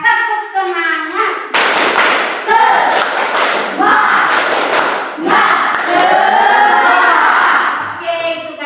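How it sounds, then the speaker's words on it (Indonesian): A classroom of students performs a 'tepuk semangat' rhythmic clapping chant, with sharp, loud clap bursts mixed with shouted, chanted voices in a quick, patterned rhythm. "Tepuk semangat."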